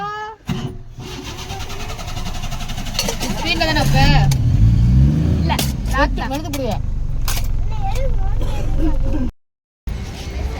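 A car engine cranks and settles into a steady low rumble as the vehicle pulls away, with lively voices and laughter from a family heading to temple darshan in Madurai going on throughout.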